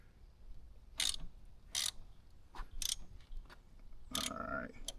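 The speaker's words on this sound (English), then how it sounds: "And we're definitely gonna torque it." A ratchet wrench tightening a bolt on a motorcycle called Ghost being made highway ready, several short sharp clicking bursts spaced apart, close and fairly loud over a quiet garage background.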